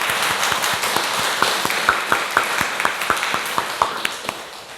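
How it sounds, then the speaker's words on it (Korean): A church congregation claps together in a steady, even rhythm of distinct hand claps over a low room murmur, moderately loud and close, keeping time for several seconds. "우리 하나님께 영광의 박수 한번 올려드립니다"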